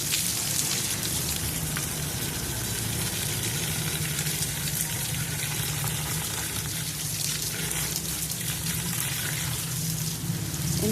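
Lukewarm water running steadily while potted plants are watered, a continuous hissing splash that stays even and fairly loud throughout, with no voices.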